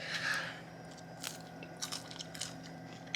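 Quiet, close-up crunching as someone bites into crisp air-fried baked potato skin, with a few small crackles and chewing sounds.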